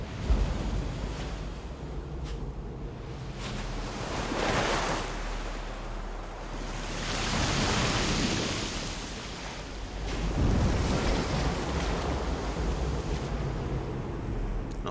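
Ocean surf rolling in Death Stranding, broad washes of waves rising and falling in slow swells with a constant windy hiss, distant and steady with no voices.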